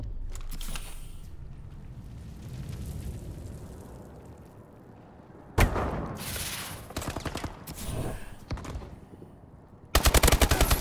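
Rapid automatic gunfire in a first-person shooter game, loud bursts of shots in several spurts separated by quieter background game noise, with a sharp final burst at the end.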